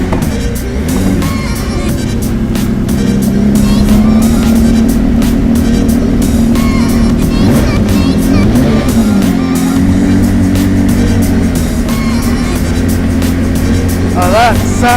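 A Ferrari F50 engine rumbles loudly and steadily, its revs rising and falling, with a sharp high rev near the end; voices speak underneath.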